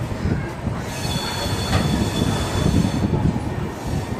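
The MGR Chennai Central–Mumbai CSMT Express at Chennai Central station rumbles steadily with a thin metallic squeal of wheels running on over the noise, close and loud.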